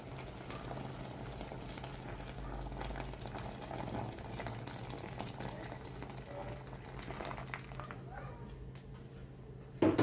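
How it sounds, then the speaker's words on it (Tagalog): Crabs boil in broth for ginataang monggo with kalabasa, a steady close bubbling and gurgling simmer at moderate volume, a few small clinks near the end. "Continue tayo sa pagpapakulo hanggang sa malasahan at maamoy natin ang ating crabs."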